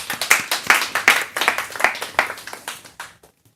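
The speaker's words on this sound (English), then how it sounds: "Big hand of applause." Audience at a hackathon tech talk clapping after a speaker, a dense round of applause with sharp claps up front that thins out and fades to silence by the end.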